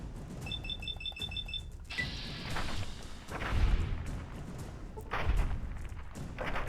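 Gunshots in Fallout New Vegas, a few scattered booming shots at moderate distance amid beeping electronic tones and background game noise.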